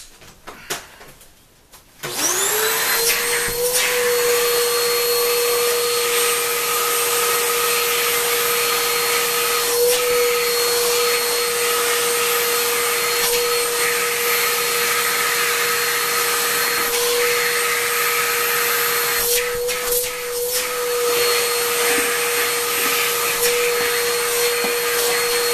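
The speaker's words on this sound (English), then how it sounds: "Okay, so I also have my regular home vacuum here" A regular household vacuum cleaner switches on after a brief quiet moment and runs loudly and steadily, a constant motor whine with a strong tone, continuing alone without pause to the end.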